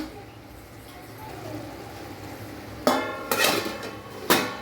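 A lid is set onto a cooking pan of egg noodles, giving a few sharp metallic clinks near the end after a quiet stretch of low kitchen noise.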